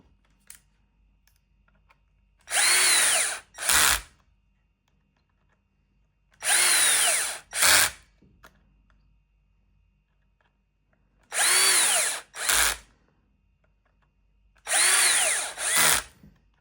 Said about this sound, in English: But as I'm using my drill, so I just need to start doing this